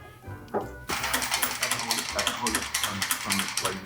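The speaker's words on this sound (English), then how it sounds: "then we'll start tightening the hardware and go on to the inner fenders" Ratchet tightening the hardware on a Hudson Hornet in a garage: fast, steady clicking that runs continuously for several seconds, loud and close after a brief quiet start.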